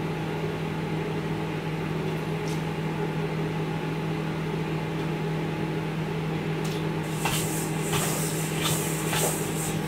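A microwave oven hums steadily while melting butter, a constant loud drone throughout, and a few short beeps sound near the end.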